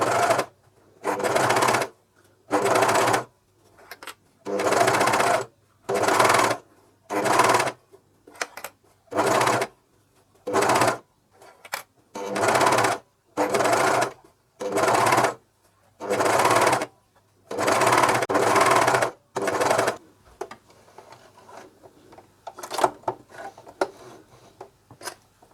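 A Juki MCS1 coverstitch machine stitches a pocket onto heavy polyester fabric in about seventeen short, loud bursts of rapid whirring separated by pauses, then gives way to quieter handling clicks and rustles.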